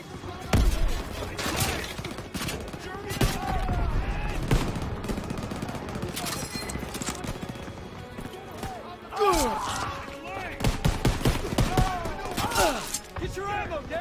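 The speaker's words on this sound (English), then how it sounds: "MGs are tearing us up!" Rapid machine gun bursts and scattered rifle shots in a WWII shooter game, dense and echoing across the whole stretch, with shouted soldier voices mixed in.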